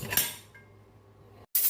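A lid settles onto a cooking pot of beef nilaga with a brief metallic clatter, followed by a faint ringing tone and then another sharp knock at the end.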